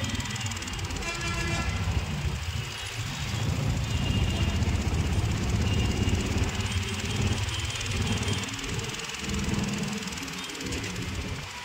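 A passenger train runs between Renigunta and Yerraguntla with a constant loud rumble and roar, and a horn toots over the noise throughout.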